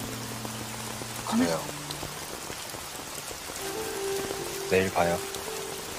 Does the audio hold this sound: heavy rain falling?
yes